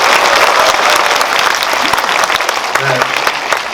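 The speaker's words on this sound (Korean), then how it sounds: "박수 한번 쳐주십니다." Audience applause in a cinema hall after a film Q&A event, steady dense clapping from a sizable crowd that holds loud and even throughout.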